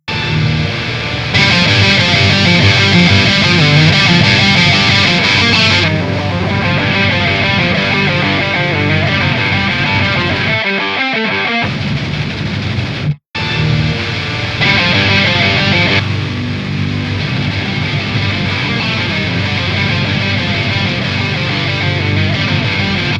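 Electric guitar playing a main rhythm part with a lo-fi effect, giving a dense, distorted, steady stream of chords with a short break near the middle.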